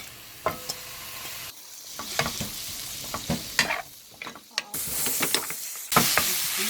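White radish stir-frying in a little cooking oil for tteokbokki, with a sizzling hiss broken by repeated spatula scrapes and taps and a brief louder burst of frying toward the end.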